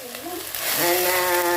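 Mustard seeds, green chilli, curry leaves and onion dropped into hot oil for an okra stir-fry, a sudden sizzle rising halfway through and holding loud and steady, with a voice at the start.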